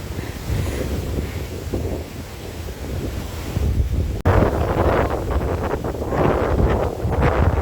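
Strong typhoon wind in Hong Kong roars and buffets close to the microphone in loud rushing gusts, easing slightly before a sharp surge of heavier blasts in the second half, with no talking.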